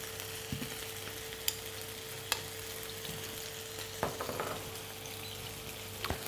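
Butter foams and sizzles in a pan while Norwegian cod is basted, a steady soft frying hiss with a few faint clinks and scrapes of a spoon, no one speaking.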